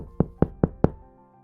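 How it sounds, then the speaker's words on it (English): Four evenly spaced knocks on a door ring out close and sharp, each a solid thud with a short resonant tail, followed by quiet. "He knocked on the door."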